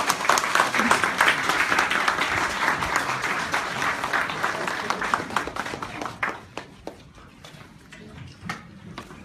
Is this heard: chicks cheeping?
no